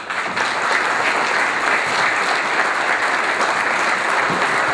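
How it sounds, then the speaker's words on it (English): Steady, loud applause from an audience at a chamber of commerce annual report, honoring elected officials in the room, continuous dense clapping with no pauses. "we'd like to acknowledge you with some applause"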